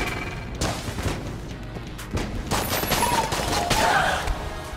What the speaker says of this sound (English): It just functions as a shotgun.